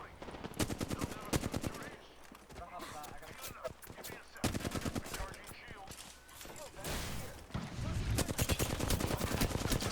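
Rapid automatic gunfire rattles in bursts through a video game shootout, loud cracking volleys repeating across the stretch with brief lulls between them.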